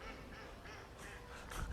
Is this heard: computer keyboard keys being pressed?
no